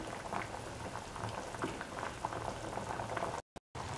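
Okra and taro root stew boiling on a high flame, with a steady, dense bubbling that fills the whole clip before cutting out briefly near the end. No one talks.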